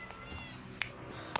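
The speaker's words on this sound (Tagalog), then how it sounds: "Pasensya naman nga po na malakas po ang yun ng pusa." A cat meows loudly in a few short, high-pitched calls spread across a brief moment, set against a faint background hum, with no speech over it.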